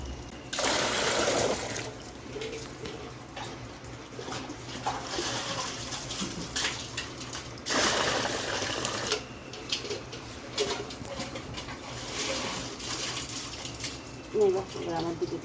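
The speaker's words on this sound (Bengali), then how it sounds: "এই এক বালতি জল তুলতে খুব কষ্ট" Water is drawn up by hand into a bucket in Konnagar, making bursts of splashing and clattering that come in repeated surges, with people talking in between.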